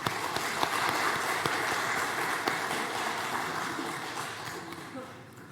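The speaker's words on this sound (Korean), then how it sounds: "우리 할렐루야 찬양대 주일 경배 찬양팀 축복하고 격려하는 박수 합니다" Applause from a church congregation at a Sunday worship service after the choir and praise team sing, a dense, steady wash of clapping that slowly fades toward the end.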